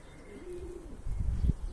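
Low, soft pigeon cooing in a pigeon loft, a brief throaty warble that swells toward the end, close by.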